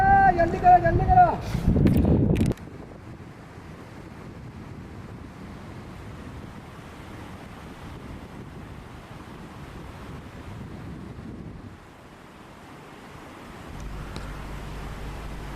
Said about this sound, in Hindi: ये नदी वो सामने वाले ग्लेशियर से आ रही है और इस नदी का पानी शदीद ठंडा है।